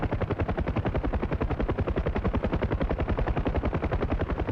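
Helicopter rotor in a combat flight game coming in to land, a steady loud rapid chopping thump that runs unbroken throughout with no talk.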